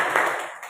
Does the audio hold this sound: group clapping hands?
yes